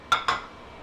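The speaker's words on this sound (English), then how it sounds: "We're just gonna throw it on a dry skillet, kind of let it do its thing." Salsa ingredients, including garlic, hit a hot, dry skillet set on high heat with two quick, bright metallic clinks in close succession, followed by faint background hum.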